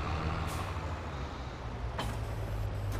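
A farm vehicle in Farming Simulator 23 rolls up to hitch an implement, with a low, steady engine drone and a few short hissing bursts like air-brake releases, no talk.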